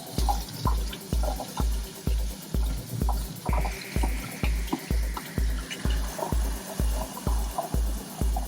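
An aquarium filter part is rinsed under running water: a steady wash of water with regular, evenly spaced low thumps pulsing roughly twice a second throughout.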